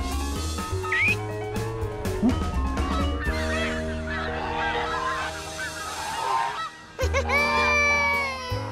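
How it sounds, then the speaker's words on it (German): Cartoon geese honk over a bouncy musical score, their calls bursting in repeatedly and overlapping in a lively flock, with a brief pause before the music and honking resume. "Coco flog gemeinsam mit den Gänsen hoch oben in den Lüften"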